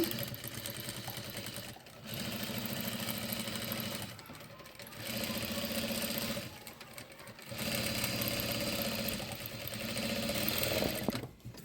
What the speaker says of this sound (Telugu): ఫోర్ స్టిచ్చెస్ అనేవి వేస్తున్నాను నేను.